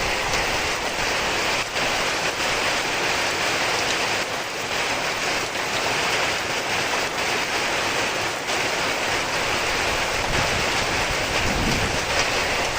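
Heavy rain pours down in a constant dense hiss, loud and unbroken throughout, with no voices.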